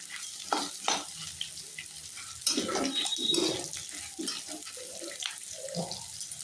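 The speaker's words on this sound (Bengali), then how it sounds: "আর এই আমি এক্ষুনি চুড়ি চিড়েটা ধুয়ে নিয়ে একদম শুকনো জল আপনি পুরো ঝরিয়ে ফেলতে হবে" Flattened rice (chira) washed in water, with close splashing and swishing of water against grains in a bowl alongside a kitchen sizzle, irregular bursts over a steady background, no talk.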